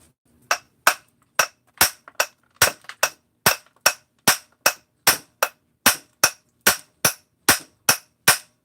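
A hammer, used with a mini Wonder Bar, whacks apart Husqvarna 394/288 chainsaw parts: around eighteen loud, sharp metallic strikes at an even, brisk pace, each ringing briefly with clear gaps between.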